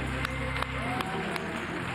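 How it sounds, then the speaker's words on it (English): A church congregation claps along in steady rhythm during a sermon, with sharp claps recurring over a sustained musical backdrop. "clap those hands"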